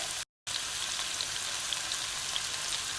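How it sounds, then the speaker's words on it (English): Steady crackling sizzle of garlic frying in a hot pan, with a brief dropout near the start, then continuous fine popping. "The garlic's starting to sizzle now."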